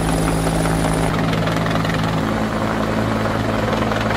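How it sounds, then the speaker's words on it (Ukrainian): A helicopter airlifting a cow over Sardinia roars close and loud, with a steady thudding rotor and engine drone that stays constant throughout and has no voices over it. "як свійська тварина летіла у небі, щоправда, не самостійно, а на гелікоптері"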